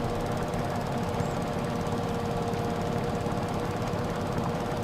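Tractor engine in Farming Simulator 25, a steady, dense mechanical drone with a rough knocking rumble, constant and fairly loud with no talk over it.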